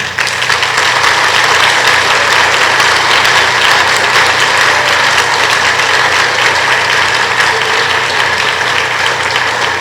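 Loud sustained applause from a crowd at an official ceremony for physical education staff in Benin, a steady dense roar of clapping lasting nearly ten seconds with a low rumble beneath.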